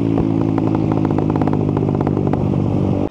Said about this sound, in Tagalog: yung pangalawa naman is yung anti-lag or mas kilala natin bilang rapid backfire